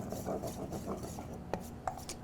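Flour and cornstarch, three parts to one, stirred together in a bowl: soft, quiet scraping and rubbing strokes with a couple of sharper taps near the end, close and alone.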